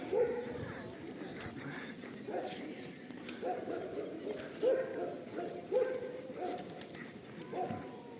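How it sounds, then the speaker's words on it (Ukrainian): Dogs bark and yip in short bursts at a distance, scattered across the clip under an outdoor background with some people talking, in autumn in Truskavets, Ukraine. "собаки гавкають та Тікають"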